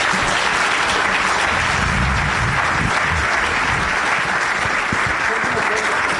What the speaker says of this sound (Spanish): Les damos un muy fuerte aplauso.